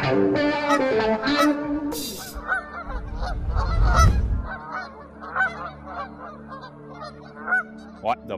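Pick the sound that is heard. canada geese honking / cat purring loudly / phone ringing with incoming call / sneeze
canada geese honking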